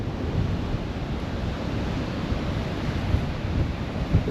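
Ocean waves and wind on a cold, windy beach, a continuous broad rushing roar with low rumbling surf and gusty wind buffeting the microphone, no voices.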